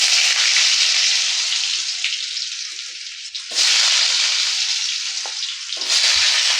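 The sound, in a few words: potatoes frying in a pan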